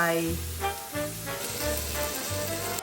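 Thai pork barbecue with mala soup sizzles loudly on a hot grill pan, a constant crackling hiss with faint tonal hums and clatter underneath.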